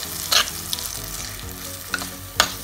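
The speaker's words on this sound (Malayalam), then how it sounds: "അങ്ങനെ നമ്മൾ അരിഞ്ഞ് വെച്ച മാങ്ങയെല്ലാം എണ്ണയിലേക്ക് ചേർത്തിട്ടുണ്ട്" Chopped raw green mango hits hot oil for an Onam mango pickle, giving a steady close sizzle with a few sharper stirring scrapes and spatters standing out, no voices.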